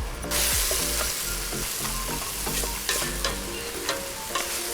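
Onion with garlic just added, sautéing in a pan for Mapuche charquicán of cochayuyo; a close, continuous sizzle punctuated by several sharp utensil taps and scrapes.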